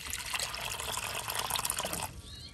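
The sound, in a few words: clear water poured into a fish tub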